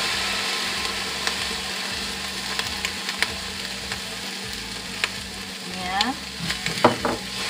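Chopped onion sizzles in a small amount of hot oil for sticky ginger chicken, a steady broadband hiss with scattered clicks and scrapes of stirring, closer and busier near the end; a voice speaks briefly.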